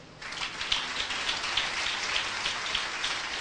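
A congregation in a church service gives a strong round of applause to the Lord, a dense, even wash of many hands clapping that starts abruptly and holds steady throughout.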